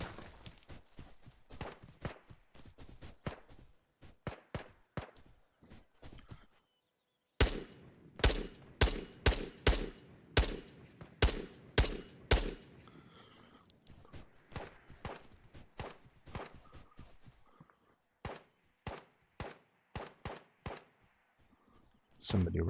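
Sharp gunshots crack in rapid bursts during a shooter video game, loud and close, with short pauses between strings of shots and one brief silent gap midway.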